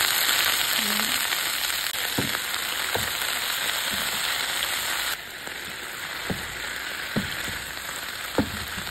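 Water spinach (kangkong) cooks in a pan with ginger and garlic, giving a steady close broadband sizzle of frying with a few soft stirring clinks and taps scattered through it.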